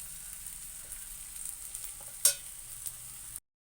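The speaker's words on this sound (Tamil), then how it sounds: "நம்ம தோசைக்கல்லில் நம்ம அடையை போட்டுடலாம். கொஞ்சமாக இதில் எண்ணெயை ஊற்றிக்கலாம்." Rava adai batter fries with a little oil on a dosa tawa, giving a soft, steady sizzle with one sharp spatula tap midway, close and quiet, no voices, ending abruptly.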